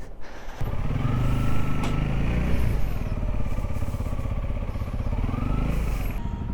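A Honda CRF motorcycle pulls away from a service shop, its engine starting abruptly and then running in a loud, steady, close rumble with slight rises in revs.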